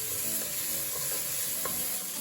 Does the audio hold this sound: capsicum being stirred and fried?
yes